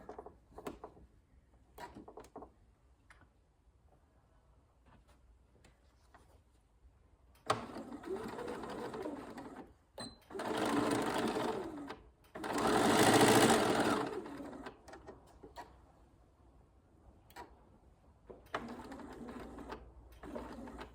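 A sewing machine stitches the lining of a zipper pouch in short bursts, then in longer runs. The whirring is close and moderately loud, with quiet gaps and small mechanical clicks between the runs.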